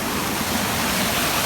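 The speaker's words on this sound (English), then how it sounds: "We're right next to the waterfall," Waterfall roaring close by beside a rocky gold-bearing creek, a steady, loud, dense rush of falling water filling the whole clip without a break.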